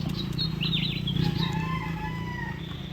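Farm chickens give a few rising crowing and clucking calls over a steady low hum, fairly faint and close, with no voices.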